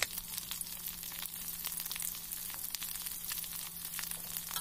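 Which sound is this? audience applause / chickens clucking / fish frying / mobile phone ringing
fish frying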